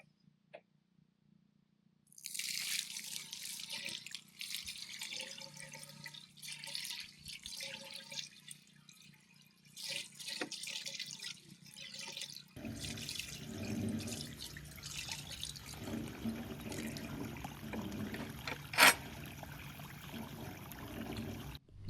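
Water runs through newly installed bathroom plumbing in a house under construction, a steady close hiss and splash like a tap filling a sink, growing fuller and rougher after a pause, with a brief sharp knock near the end.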